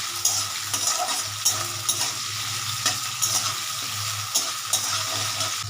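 Potatoes fry in a pan with a continuous close sizzle, broken by regular scraping strokes of a spatula stirring them every second or so under a low background hum.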